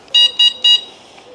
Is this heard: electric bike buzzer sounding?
yes